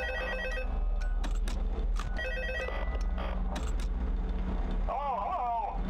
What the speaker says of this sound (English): And we can hear the phone call.